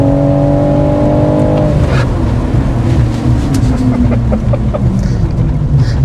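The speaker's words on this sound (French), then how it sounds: "c'est une prise de frein sur le mouillé" A BMW i4 M50 electric car brakes hard on a wet road, giving a loud, steady rush of tyre and road noise with an engine-like hum that fades after the first seconds and continues alone.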